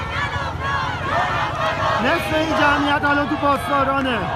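Protest crowd at Pasdaran intersection in Tehran, a dense roar of many voices with one voice rising above in sustained chant-like calls from the second mark on, loud and close throughout.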